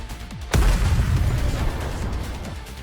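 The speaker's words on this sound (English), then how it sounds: "A loud explosion rings out near the walls of the lift, followed by clouds of smoke" A single heavy explosion booms near the walls of a lift in a video game, a deep sudden blast that hits hard and then rumbles and decays over the following seconds, with no voices.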